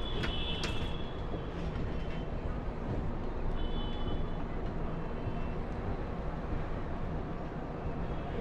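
The 13009 Doon Express passenger train running on rails between Kolkata and Bandel Junction, a dense continuous rumble heard from inside, steady and even, with a faint metallic squeal near the start.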